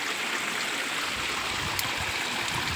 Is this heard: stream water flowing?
yes